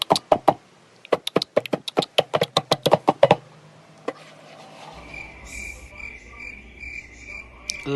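Crickets chirping at night, heard as a steady high trill in the second half. It follows a run of sharp, rhythmic clicking pulses, with no voices.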